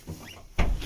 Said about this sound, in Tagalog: nabuksan na yung pinto